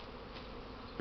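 Masses of honeybees on a strong spring cleansing flight around their hives at about 20°C give a constant close-up drone, steady throughout, with a small knock right at the end.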